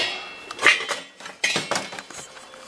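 A lid set onto a pot of flour tortilla enchiladas in a home kitchen: a few close metallic clinks and clatters, with a couple of distinct contacts and short ringing.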